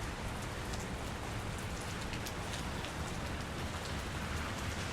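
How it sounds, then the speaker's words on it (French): Rain falls steadily in a dense, even hiss with soft pattering drops, continuous and fairly faint throughout, with no voices. "Oh là là, cette pluie."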